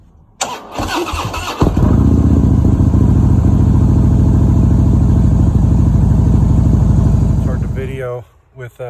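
A 2016 Harley-Davidson Road Glide Ultra cranks over and fires, then settles into a loud, close, lumpy idle rumble for several seconds before cutting off. The engine runs outdoors on a cold winter day, and a voice speaks briefly near the end.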